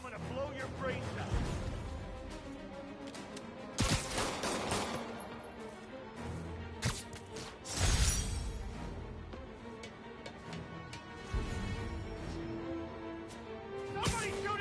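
Bursts of gunfire and crashing action from a Spider-Man video game, with several sharp loud volleys and thuds standing out over a dense, busy game mix of effects and character voices.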